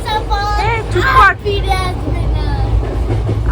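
A passenger train runs along the rails as it nears Bardhaman, its steady low rumble continuing under people talking close by, including a voice.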